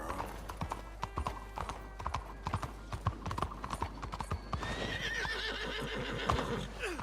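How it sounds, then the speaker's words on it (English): A horse in Red Dead Redemption 2 clip-clops with a quick, steady rhythm of close hoofbeats, then lets out a loud whinny partway through while its hooves keep going. "This horse is unstable."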